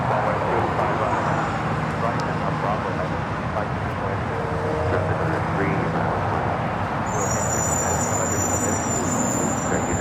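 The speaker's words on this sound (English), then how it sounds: "This is United Airlines 2040 taking off to Houston Intercontinental on a MAX 9." A United Airlines Boeing 737 MAX 9 takes off from LAX bound for Houston, a loud, steady broadband engine roar with rumbling low end held throughout, heard from a distance amid airport ambience with speech present.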